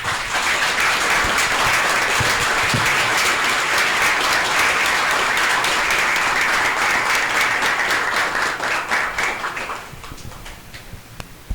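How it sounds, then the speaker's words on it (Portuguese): A crowd applauds steadily and loudly at a solemn ceremonial session honouring a federal deputy, the clapping sustained throughout before thinning out near the end. "Vamos encerrar essa sessão solene com uma salva de palmas ao excelentíssimo deputado federal"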